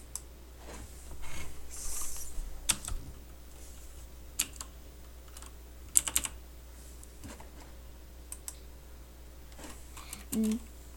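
Scattered keystrokes on a computer keyboard as a dir command is entered at a command prompt, quiet, irregular clicks in short bursts with pauses between, a faint voice briefly near the end.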